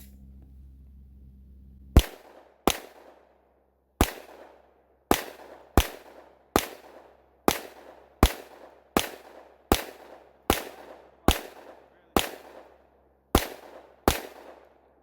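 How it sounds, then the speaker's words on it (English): Fourteen sharp, loud shots from a Glock 20 Gen5 pistol firing 180 grain Underwood XTP rounds outdoors, spaced unevenly about half a second to a second apart, each followed by a short ringing decay. "Out here shooting the G20 Gen 5"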